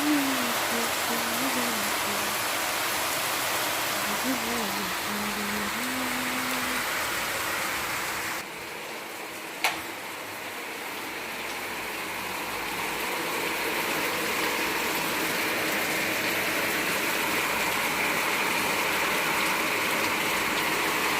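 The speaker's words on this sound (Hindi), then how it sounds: "छम छम छम छम बारिश आई छम छम" Steady heavy rain hisses continuously, a dense wash of noise that briefly dips midway before returning at full strength.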